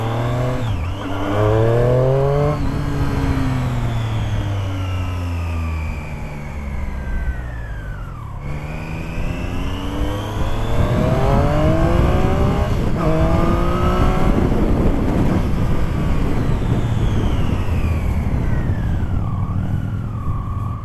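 Triumph Street Triple S 660 motorcycle, restricted for the A2 licence, on a test ride: its engine revs up and down in smooth rising and falling sweeps that run throughout, close and loud, with wind noise and no talk.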